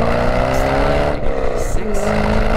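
A Chevrolet Corvette engine revs loud and close, a thick droning growl with a steady layered pitch that dips briefly and then swells again.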